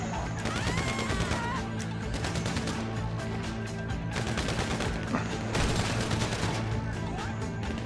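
Gunfire in GTA Online comes as dense, rapid bursts of shots with crashes mixed in, loud and nearly continuous, with a few louder spikes standing out.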